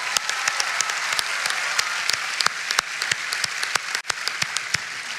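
A crowd at a homecoming celebration for a NASA astronaut claps steadily, with dense applause and a few loud nearby claps cutting through, continuing without speech.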